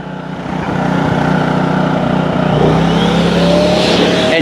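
A Maxshine car dryer blower spins up and runs at maximum airflow, a loud steady roaring whoosh with a motor whine rising slightly in pitch, close by with no talking.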